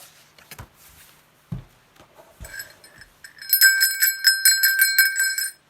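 Santa's bell rings out in a fast bright run of jingling strikes over the final two seconds, loud and close, after a few quiet thumps and soft rustles.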